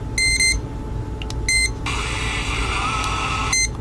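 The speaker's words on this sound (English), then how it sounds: "there's a way to turn off the beep" Short, bright electronic power-on beeps from a Grundig G8 Traveler II world radio in three separate bursts, close by, with a steady buzzing hum in between.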